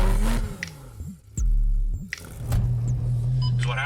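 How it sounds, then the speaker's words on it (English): A Porsche GT3 RS drives away, its engine rumbling loud and close with a brief rev, a dip, then a steady drone as it pulls off. "I'm gonna jump in the car and drive away"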